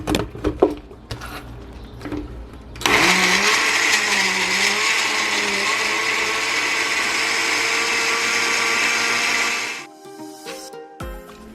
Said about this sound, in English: we are going to blend until smooth